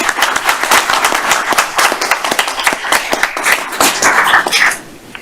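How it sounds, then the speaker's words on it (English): Applause from the audience at a Beaufort County council meeting: many hands clap in a dense, steady burst of moderate loudness, then the clapping fades out in the last half second. "let's give him a round of applause"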